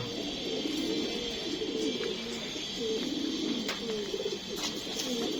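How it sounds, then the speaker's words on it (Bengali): Racing pigeons arriving back at the loft after a race coo in soft, repeated low throaty phrases over a steady background hiss, several birds calling close by. "আজকে এগারোতম পাল্লার কবুতর চলে আসছে"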